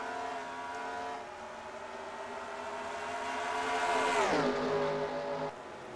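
Race cars in a racing video game roar past at Watkins Glen, a steady loud engine drone that swells, then a sharp pitch drop as one car overtakes another and passes close by.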